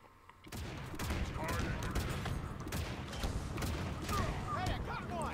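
Rocket Warthog in Halo Infinite unleashing a dense, continuous barrage of booming shots and blasts, loud and close for about five seconds, with voices mixed in.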